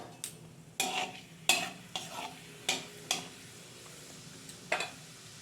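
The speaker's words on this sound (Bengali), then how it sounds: "তেল গরম হয়ে গেছে এক চামচ বিউলির ডাল দেবো বা কড়াইয়ের ডাল" A spoonful of urad dal dropped into hot oil in a wok sizzles softly, with a series of sharp spoon scrapes and clinks against the pan at irregular intervals; quiet and close, with no talking.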